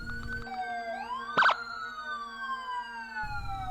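A wailing siren sweeps up and down over a steady tone, with a brief burst of sharp clatter partway through; no voices.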